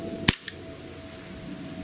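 A single sharp crack from a Sig Sauer P229 full-metal 6mm blowback airsoft pistol firing a biodegradable BB over a chronograph, followed by a faint metallic clack of the slide, then quiet.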